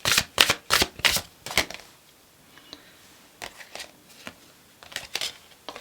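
Tarot deck shuffled by hand during a reading, with a quick run of sharp riffling bursts at the start, then a quieter pause and a few softer card flicks and taps toward the end.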